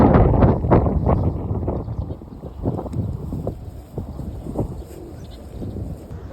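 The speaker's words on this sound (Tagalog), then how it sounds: "Sobrang hangin dito." Strong wind at the Imperial Palace in Tokyo buffets the microphone with a loud, low rumbling gust at the start that eases into softer, uneven gusts, with faint background sounds.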